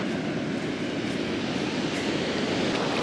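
Steady broadband roar of surf washing onto a beach at Uluwatu, Bali, continuous and fairly loud with no voices.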